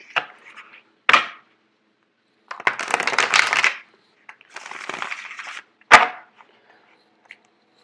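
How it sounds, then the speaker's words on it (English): Tarot cards handled and shuffled, with sharp taps and two long riffling bursts of card edges, close up and alone, separated by short silences. "I'm actually going to do one more shuffle."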